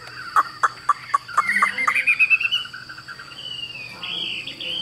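A red-whiskered bulbul sings in a cage being carried, giving a series of sharp close chirps followed by a rapid rising trill, with a steady high insect-like buzz and faint background noise.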